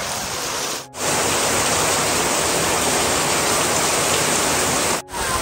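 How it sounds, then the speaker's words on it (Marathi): Heavy monsoon rain pours down over a Konkan village in the hills. It is a loud, dense, continuous hiss with two brief dips. "पाऊस थांबला होता पण आता याला सुरुवात झाली"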